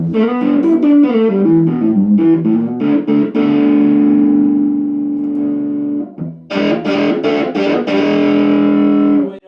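An overdriven electric guitar, its tone control rolled back with a .05 capacitor, plays a short riff, then sustains a thick chord before more choppy distorted strums; loud, close, no talking.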